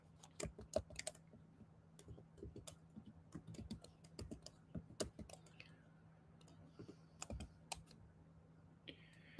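Keystrokes on a computer keyboard tapping out a website address, quiet and close, with irregular bursts of clicks and short pauses, no voices present.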